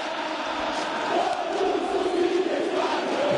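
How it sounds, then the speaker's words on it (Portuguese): Bahia football supporters in a stadium crowd during a match against ABC, a dense, steady roar of many voices with a sung chant rising slightly after the first second, continuous and distant-sounding. "A torcida vai cantando, dizendo assim"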